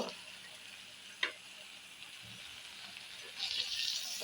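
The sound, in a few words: stirring jackfruit seeds with bottle gourd greens in a pan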